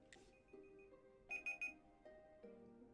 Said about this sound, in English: And there is my alarm.